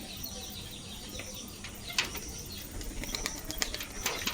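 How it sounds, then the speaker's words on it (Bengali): A pigeon at a village dovecote gives soft coos and brief bursts of wing flapping. Sharp chirps and rustles come and go at moderate distance against quiet background noise, with no talk. "এই যে পায়রাটা আছে"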